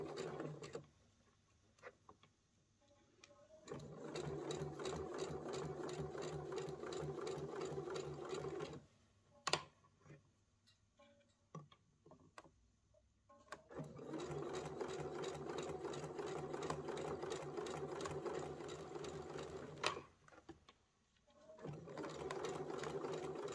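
A domestic sewing machine stitching fabric about 5 mm from the edge, close and steady with a fast rhythmic needle chatter in two long runs and a short one, separated by quiet pauses with small handling clicks.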